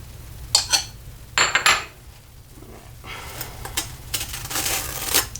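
A knife scrapes across crisp toast in short rasping strokes, a few louder swipes followed by a steadier scratchy spreading, close and quiet.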